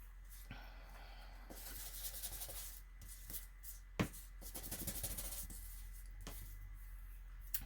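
An eraser is rubbed back and forth on paper in short bursts of soft scratchy friction, close and fairly quiet, with brief pauses and a light tap between strokes.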